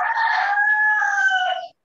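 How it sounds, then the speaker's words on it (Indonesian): A rooster crows nearby in one loud, clear call lasting under two seconds, then breaks off abruptly. The call is heard alone with no talking. "Suara ayam di mana itu?"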